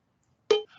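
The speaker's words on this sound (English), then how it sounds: "Just a quick, very quick cowbell." A single short cowbell hit, bright and metallic with a quick decay, followed by a faint tail after a moment of silence.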